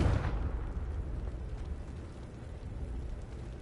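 A Confringo blast spell in Hogwarts Legacy erupts as a loud, rumbling explosion with an initial burst that decays into a sustained, heavy roar of fiery debris throughout.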